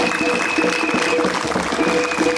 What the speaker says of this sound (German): Ihr dürft doch gerne noch mal klatschen für so einen tollen Referenten.